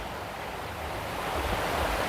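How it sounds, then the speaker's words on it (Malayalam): Water flows beside a road in the Munnar hills of Kerala, a continuous rushing wash with a low rumble that grows slightly fuller toward the end, with no voices. "സൈഡിൽ വെള്ളം ഒഴുകുന്നു."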